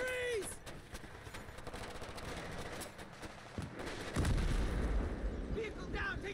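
Battlefield 3 firefight in an ambush, with rapid gunfire cracks and bursts at mid distance, a heavier blast rumbling in partway through, and in-game voices shouting under the shooting.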